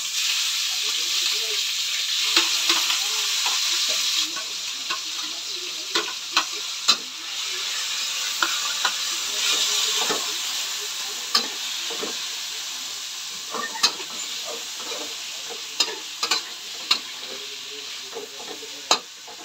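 Pork tapa fries in a pan with a steady close sizzle, and a utensil scrapes and clacks against the pan in irregular knocks as the meat is stirred.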